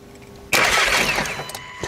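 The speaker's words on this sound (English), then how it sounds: "It swings, at least the engine turns." A VW Golf 7.5 TCR engine cranks on a jump start, a sudden loud burst of broadband engine noise that catches and then settles over under two seconds.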